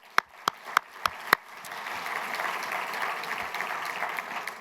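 An audience at a healthcare awards ceremony claps for an honoree: a few sharp, separate claps open the clip, then fuller, sustained applause that sounds somewhat distant and moderately quiet.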